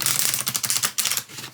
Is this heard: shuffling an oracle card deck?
yes